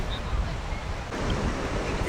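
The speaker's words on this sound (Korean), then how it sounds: "이쪽은 파도가 너무 많이 쳐가지고 이건 못 한대." Rough ocean surf crashing along a Galapagos shoreline, a steady roar of breaking waves mixed with gusty wind buffeting the microphone, loud and continuous throughout with no talk.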